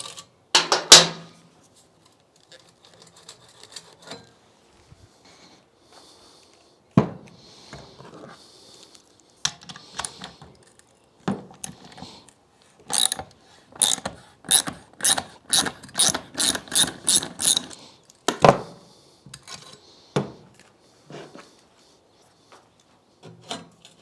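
Metallic clicks and a rapid burst of ratcheting from a hand tool as muffler clamps are loosened on a Honda VFR/CBR hybrid motorcycle, with scattered clanks and pauses between.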